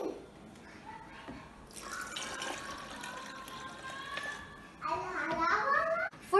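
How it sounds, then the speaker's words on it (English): Cold milk poured into a blender jar for a chocolate shake makes a splashing, filling sound across several seconds, with a voice talking over it. "now I'm going to add the milk. The milk should be very cold."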